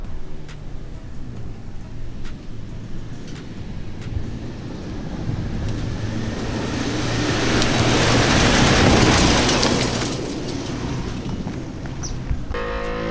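A new Ford Bronco drives through soft sand in sand mode, 4 high, traction control off, sway bars off, rear locked, its engine a steady droning rumble that swells mid-run beneath rushing wind noise.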